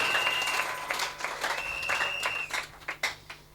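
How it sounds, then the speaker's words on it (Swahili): A church congregation applauds after a sermon, a broad wash of clapping that thins into a few louder separate claps toward the end, with a faint tone held under it. "est-ce qu'on peut acclamer?"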